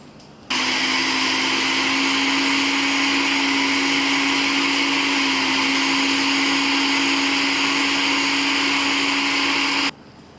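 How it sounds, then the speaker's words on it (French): A blender whirs loudly and steadily for about nine seconds, mixing vegan parmesan ingredients with salt, then cuts off abruptly. "je referme le tout comme ceci et je vais les mixer"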